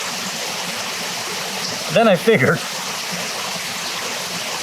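Creek water streaming steadily down toward a small river, a continuous rushing wash that fills the whole clip at moderate level, with a brief spoken phrase cutting in partway through.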